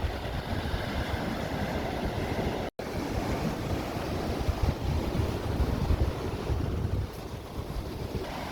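Sea waves at Arish beach in North Sinai wash in a continuous broadband roar, mixed with heavy wind buffeting the microphone, steady and fairly close, with no voices.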